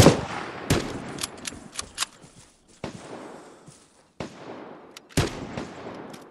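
Bursts of rapid gunfire in the video game Vigor crack out in quick volleys, separated by short pauses, with some single sharp shots in between, loud and close.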